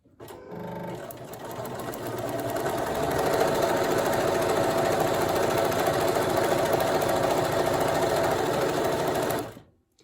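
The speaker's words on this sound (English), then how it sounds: "So I'm going to sew right on the line." A sewing machine set to a short 1.5 stitch length runs steadily for about nine seconds, a close, even whirring hum, while sewing along the line of a paper-pieced quilt block, then stops abruptly.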